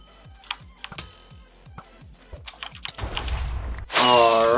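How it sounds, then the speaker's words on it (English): Rapid computer keyboard tapping and mouse clicks during Minecraft play, a brisk run of sharp close clicks, ending in a sudden louder burst of game noise. "sorry for all the clicking"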